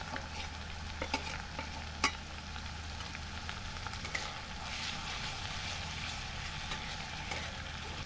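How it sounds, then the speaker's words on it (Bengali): Ginger garlic paste fries on low heat in a pot for a chicken curry, a steady close sizzle with a few sharp clicks of a spoon against the pot. "এখন আমি দিয়ে দিব আদা রসুন বাটাটা।"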